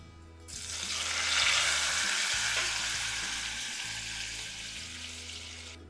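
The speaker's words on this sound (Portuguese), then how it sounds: "Agora eu vou colocar o feijão." Black beans tipped into a pot of fried garlic set off a sudden loud sizzle that swells to a hissing roar, then eases gradually while a steady low hum runs underneath.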